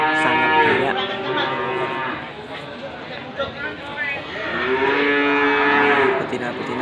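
Cattle low loudly and repeatedly at a busy Indonesian livestock market in Wlingi, the long moos close and overlapping with a person talking throughout.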